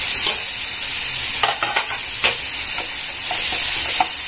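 Grated tomato sautés with taro and potato in a pan, giving a loud steady sizzle with several short stirring scrapes scattered through it.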